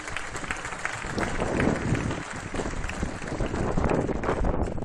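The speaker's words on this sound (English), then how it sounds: "please, another quick round of applause for Stella Corretto and Maddie Ling" An audience at an awards event applauds continuously, a dense, steady wash of many hands clapping that swells slightly over the few seconds, with faint crowd murmur underneath.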